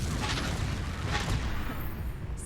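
The Confringo fire spell from the game Hogwarts Legacy erupts in a dense, rumbling blast, loud and close, with a low boom running through a short stretch of noisy crackle.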